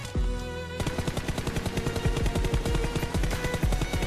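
A fully kitted M416 rifle in PUBG fires on full auto in a rapid, steady stream of loud, close shots, continuing without pause and with no talk over it.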